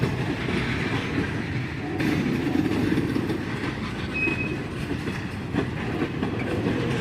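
A freight train made up of empty flat cars for steel slabs rumbles past in a steady, fairly loud roll with rhythmic wheel clatter and a brief metallic squeal, with no voices.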